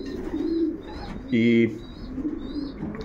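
Racing pigeons in a loft cooing, soft murmuring coos around a louder, clear low coo in the middle, with faint chirps in the background.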